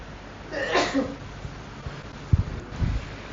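During a seated scripture reading and discussion session, one person gives a single abrupt sneeze, followed by a few soft thumps and rustles.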